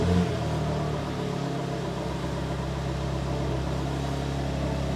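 A BMW engine with a newly installed controllable exhaust fires up with a brief surge, then settles into a steady, throaty exhaust idle with a constant low hum.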